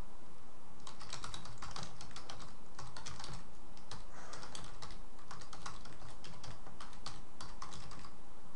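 Typing on a computer keyboard, a close, steady run of quick key clicks in bursts with brief pauses, heard alone without talk.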